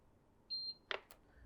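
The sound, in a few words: audible beep from Runxin F73 Duplex valve interface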